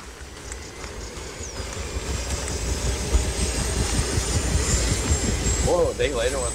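A Junkers aircraft engine drones overhead, the rumbling roar building steadily louder across the clip, with a voice speaking briefly near the end.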